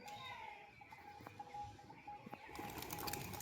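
Pigeons at a home loft, soft cooing with a burst of wing flapping near the end, faint and distant under children's voices and other people talking.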